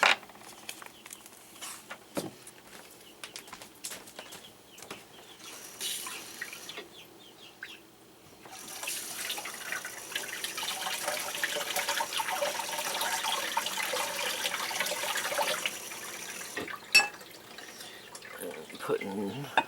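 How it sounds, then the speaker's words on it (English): Warm water pours from a tap into a container for several seconds, a steady splashing rush that starts after quieter handling noise and stops near the end, with a chicken faintly audible in the background. "warm water in, about halfway full."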